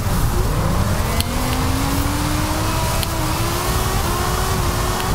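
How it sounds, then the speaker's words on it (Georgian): BMW E60 drifting through a snowy winter track in Forza Horizon 4, its engine droning loud and steady with rising, wavering revs and tire hiss, continuous and close throughout. "ახლა უკვე გადავიდეთ შემდეგ წრეზე, იგივე დრიფტით შეუჩერებლად"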